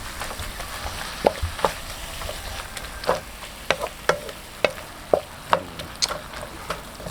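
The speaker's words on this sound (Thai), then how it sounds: "ผัดให้แอลกอฮอล์ระเหย" Beef stir-fried in a pan with alcohol-containing seasoning cooking off for a rice bowl, a steady sizzle broken by repeated sharp clicks and scrapes of the spatula against the pan.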